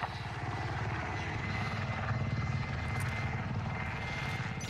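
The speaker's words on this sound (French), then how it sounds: "Drone ennemi au-dessus." Enemy drone in Call of Duty Warzone hovering overhead, a loud steady rotor-like drone with fast blade chop that holds without a break from start to finish.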